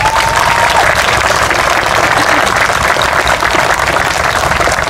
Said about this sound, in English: So I would like you to all turn, give a round of applause to Captain Danny Purcell.